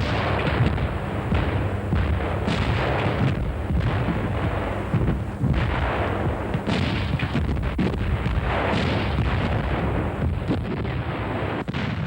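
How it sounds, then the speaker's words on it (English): German IG-18 infantry guns firing in North Africa in 1941, a loud, dense barrage of booms and blasts heard through old, noisy film sound without pauses. "as can be seen in this film of these guns being used in North Africa in 1941"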